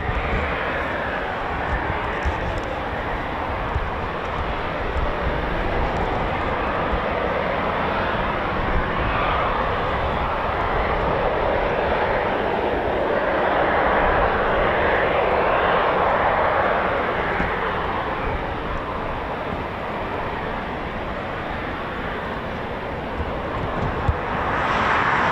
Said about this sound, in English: more Typhoon spooling for us to enjoy.